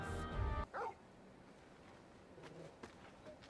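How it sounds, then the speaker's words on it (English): A dog in the Final Fantasy XVI video game gives a brief, close bark right at the start, followed by quiet ambience with faint soft movement. "And who's this fine hound I see before me?"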